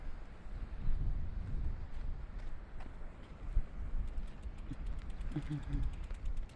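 Strong gusting wind roars and buffets the microphone beside a parked bike, a dense, rumbling blast that swells and eases throughout with faint mechanical ticks.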